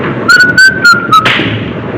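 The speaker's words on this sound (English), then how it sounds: "You're whistling, sailor." A sailor's short whistled phrase aboard a ship in the film Morituri, a few quick clear notes rising and holding, ending abruptly into a soft breathy hiss.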